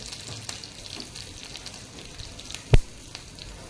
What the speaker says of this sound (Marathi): एक मिरची घातलेली आहे. मिरची चांगली फ्राय झाली की आपण हिंग घालणार आहोत.